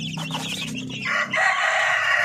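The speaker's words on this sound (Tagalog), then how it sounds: "meron tayong bibi tsaka po yung mga upgraded na native chicken" Upgraded native chickens cluck close by, and then a rooster crows loudly and briefly.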